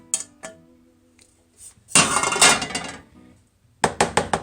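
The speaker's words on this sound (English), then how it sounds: "Now I'm also going to add the onions." Cooked onions go into a casserole dish for a French onion soup casserole, with a few clinks of a utensil against the dish, a longer burst of scraping and spooning, then a quick run of four sharp taps.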